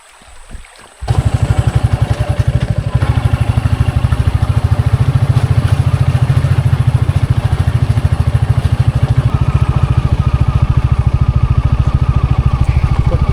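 A motorcycle engine runs steadily and loudly close by as the bike climbs a rough forest track to a tribal village in the Boddavaram forest. Its even rhythmic putter continues with no talk.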